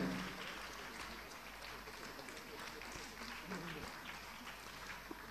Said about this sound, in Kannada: ದಯವಿಟ್ಟು ಬಹುಮಾನ ವಿಜೇತರಿಗೆ ಜೋರಾದ ಚಪ್ಪಾಳೆಯನ್ನು ವಿಧಿಸುವ ಮುಖಾಂತರ ಅವರಿಗೆ ಪ್ರೋತ್ಸಾಹವನ್ನು ನೀಡಬೇಕಾಗಿ ವಿನಂತಿಸಿಕೊಳ್ತಾ ಇದ್ದೇನೆ.